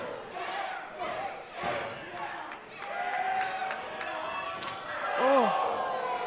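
A live wrestling show's crowd roars, cheers and jeers in swelling waves around the ring, with slaps and thuds of impacts cutting through and a commentator talking over the noise.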